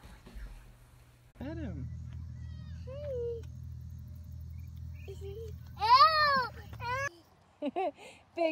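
A cat meows several times in rising, drawn-out cries, loudest near the end, over a steady low hum, with a person's voice heard briefly between the calls.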